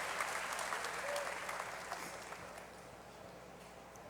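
A church congregation applauds in praise of the Lord during a bilingual workshop, sustained clapping that starts fairly full and slowly tapers off, with faint voices beneath.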